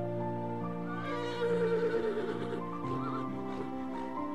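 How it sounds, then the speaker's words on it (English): Horses neighing in the horror game Mad Father, a whinny rising out of a steady droning music bed, moderately loud, with a second fainter call near the end. "I hear horses."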